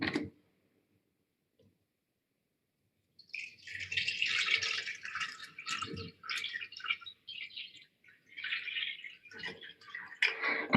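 Water poured into a model ocean container holding a model continent and sea ice, a steady splashing and trickling stream that runs for several seconds after a quiet pause, with brief clicks and knocks.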